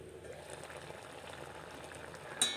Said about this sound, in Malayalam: നന്നായി തിളച്ച് കണവയിൽ നിന്ന് വെള്ളമൊക്കെ ഊറി ഇറങ്ങി വന്നിട്ടുണ്ട്